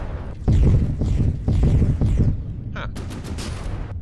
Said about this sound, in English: It's being shot by a particle cannon over there.